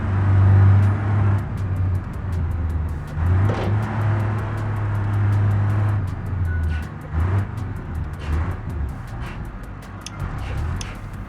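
A truck in the BeamNG driving game revs its engine in a steady, loud drone, with rough surges and dips as gears grind and change.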